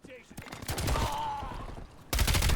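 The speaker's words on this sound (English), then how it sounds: "Look at this guy shooting." Gunfire in a Call of Duty video game, an uneven run of rapid shots and bursts that builds and ends in a loud, dense volley.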